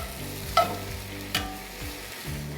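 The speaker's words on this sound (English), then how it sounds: "we're gonna add in our olive oil and start to saute our onions" Onions sauté in olive oil in a hot cast iron pan. A bright sizzle rises as they hit the oil, with a couple of sharp stirring scrapes over a brief, close, continuous frying hiss.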